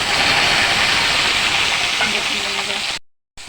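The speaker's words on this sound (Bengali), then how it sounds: "তেল গরম হয়ে গেছে এবার আমি ছোটো ছোটো করে কুচি কুচি করে রাখা বেগুনটাকে দিয়ে দেবো" Chopped brinjal hitting hot oil, with a steady, loud, dense sizzle that fills the clip before a brief dropout near the end.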